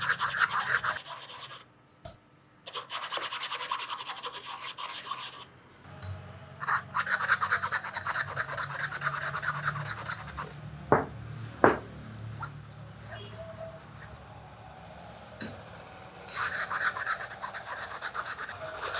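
A 3-in-1 cleaning brush scrubbing a shoe in a dry-clean wash, with bursts of rapid bristly rubbing and scratching, brief pauses and a few knocks, close up.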